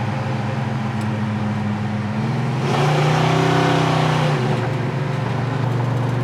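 A 1965 Plymouth Satellite engine hums steadily at about 60 mph, its tone rising briefly as it revs harder midway, then settling back to a constant drone.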